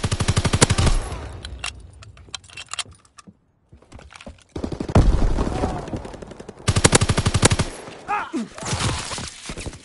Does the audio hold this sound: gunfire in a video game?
yes